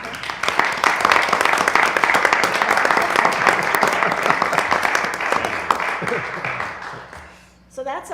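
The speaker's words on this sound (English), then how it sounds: "Round of applause." A town board meeting audience gives a departing board member a sustained round of dense applause, loud and even for about seven seconds before fading out, with a voice briefly at the end.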